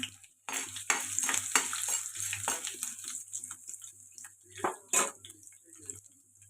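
Ivy gourd frying in a pan, with intermittent stirring scrapes and utensil clatter over a light crackle, punctuated by a few sharper metallic knocks.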